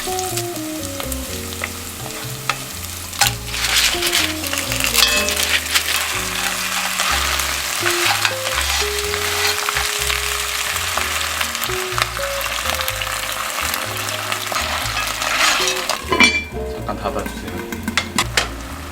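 Ingredients for vongole pasta, including parsley stems, are stir-fried in a pan with a steady loud sizzle and clatter of utensil and pan, while background music plays and voices talk at times.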